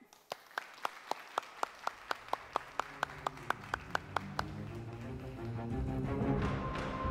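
Evenly spaced sharp claps from a stage show audience keep a steady beat for a magician, then fade as a swell of music and broader crowd noise rises.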